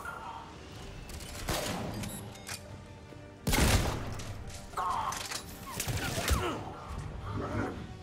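In a Mass Effect 3 firefight, shotgun blasts boom out, one especially heavy and close, among scattered cracks and impacts, with a voice briefly heard over the noise.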